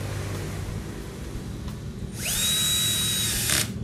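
While a PC is being assembled, a power screwdriver drives a screw in one short burst of high whine lasting about a second and a half, following a quiet stretch of low background hum.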